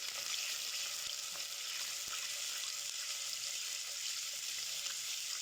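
A steady, hissing sizzle of three spoons of oil heating in a cooking pot, continuous and fairly quiet, with an occasional faint tick or pop.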